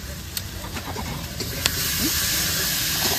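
Fried potatoes go into a pan of sizzling spice masala with tomato, producing a loud close frying hiss that swells and stays steady in the second half, with a few crackles and pops.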